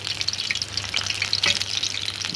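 Soya chunks hiss and crackle steadily as they fry in hot oil over medium heat, a close, continuous sizzle with no talking.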